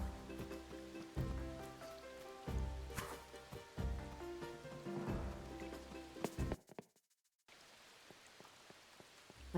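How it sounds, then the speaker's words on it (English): Rain falling in a video game, a soft, faint patter of drops on surfaces heard under game tones and thumps, briefly cutting out before a steadier quiet rain wash resumes. "I forgot what rain looked like."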